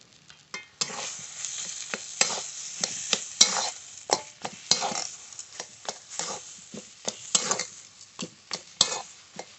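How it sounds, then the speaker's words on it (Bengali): Spiced potatoes with salt and turmeric being stirred and sautéed in a pan, with repeated close scraping strokes of a spoon over a steady sizzle, no talking. "এইভাবে নেড়ে নেড়ে একটু কষিয়ে নেব।"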